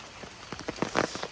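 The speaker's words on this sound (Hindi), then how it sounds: "इसी साइड हो रखा है बारिश" Rain falling outdoors during a long one-day cycling ride toward Pokhara, heard as a brief, close, uneven patter of drops striking a surface, with no talking.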